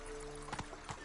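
Horse hooves trotting in the video game Witcher 3, a few hollow clip-clop hits spaced unevenly over a steady low background hum, moderately close.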